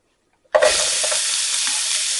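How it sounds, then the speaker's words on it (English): After a brief silence, chopped onions and drained mushrooms hit a hot pan and burst into a loud, sustained sizzle that carries on evenly to the end. "What we want to do now is to cook these onions to where they're soft and translucent."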